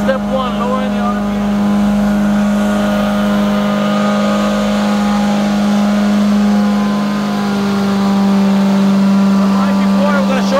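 Truck-mounted carpet cleaning engine from a 2010 Amtex Inferno Eruption rig, a loud, close, steady hum that throttles down slightly over the span, droning without a break.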